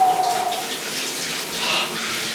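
Cold shower water running steadily in a continuous, fairly close hiss, with no talk over it.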